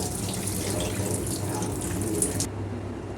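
Tap water runs steadily into a sink bowl while moong dal is washed at a home kitchen, a close, continuous splashing rush with no talk.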